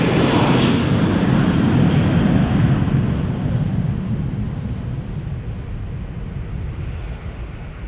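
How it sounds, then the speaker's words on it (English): An Airbus A380 takes off at Amsterdam Schiphol airport, its engines a loud, close, broadband roar that slowly fades as the jet climbs away overhead, with some wind noise on the microphone. "I'm inclined to say it's an A380."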